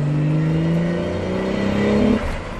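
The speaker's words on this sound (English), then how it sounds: "And that 1J sound, man, oh my gosh, it's fucking breathtaking" A twin-turbo 1JZ engine in a Lexus SC 300 drones loud and close, a steady rising engine tone that climbs through a rev before easing off sharply.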